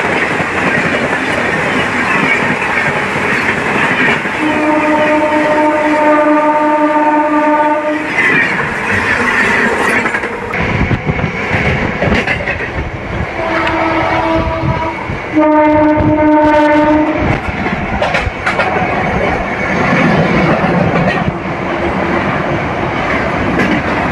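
A train pulls out of Vedayapalem railway station running late, its horn blaring in several long blasts over the heavy rumble and clatter of wagons rolling close by.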